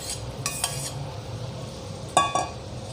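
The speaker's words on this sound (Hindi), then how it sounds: "हमारे मसालों में उबाल आ गया है, अब मैं इसमें लौकी डाल देती हूँ।" Bottle gourd going into a pot of boiling spices and being stirred, with a few metallic scrapes and clinks of a spoon against the pot over a low bubbling background, fairly quiet and with no talk.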